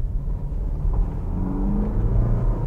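A BMW X1 in sport mode accelerates with a deep, steady engine rumble from inside the cabin, and the pitch rises gently over a few seconds.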